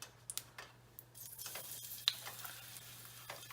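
Green chilies and garlic fry in hot oil for an Odia cheesy vegetable pasta, a soft steady sizzle broken by occasional sharp ticks and spatula clicks, quiet and close, with no voices.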